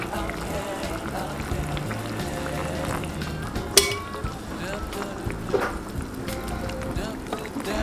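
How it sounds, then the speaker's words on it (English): Hot boiling water pours into a pan of sautéed onions and peppers, a loud hissing sizzle with bubbling and a sharp burst partway through, close by and running under a person talking. "I'm now going to add some hot water, hot boiling water."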